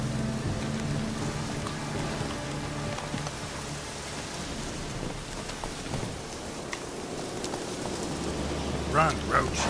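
Steady rainfall in The Witcher 3: Wild Hunt, a continuous patter on the ground beneath low rumbling ambience, with a few sharper sounds near the end.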